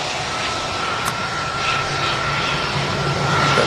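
An Airbus A320 at Manchester Airport roars past with its jet engines, a loud, sustained broadband rush carrying a steady high whistle that swells slightly toward the end.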